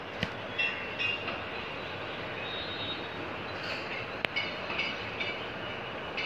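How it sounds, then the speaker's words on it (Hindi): A train passes in the evening with a steady, loud rolling rumble and hiss, broken by a few sharp metallic clanks. "सो गाइज ये देखो ट्रेन आ रही है"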